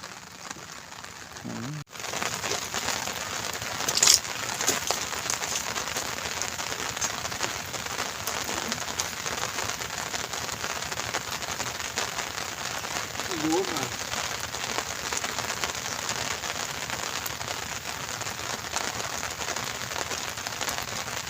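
Steady heavy rain hisses and patters continuously throughout a morning fishing trip, with a brief louder knock early on and faint voices now and then beneath the downpour.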